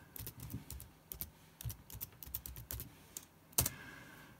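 A password is typed on a computer keyboard to log in to a Raspberry Pi running Pi-Star: quick, irregular key clicks in small clusters, close and fairly quiet, ending with one sharper keystroke like an Enter press.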